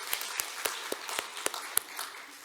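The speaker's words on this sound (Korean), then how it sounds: "성가대 귀한 찬양 감사하는 마음으로 하나님께 영광 돌리는 마음으로 박수 한번 하면 좋겠습니다" Sparse, scattered clapping from a church congregation during a Sunday worship service, a handful of distinct claps at a modest, uneven pace, faint and somewhat distant.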